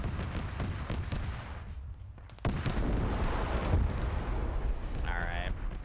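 A tank cannon fires in a military video game, a heavy booming blast that jumps sharply in loudness partway through, followed by a sustained loud rumble and a brief tonal sound near the end.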